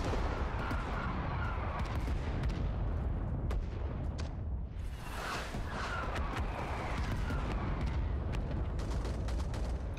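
A frag grenade blows up in the winter-war shooter Rising Storm 2: Talvisota, a deep boom bursting amid continuous loud rifle and machine-gun fire, with repeated cracks and rumbling blasts filling the whole stretch.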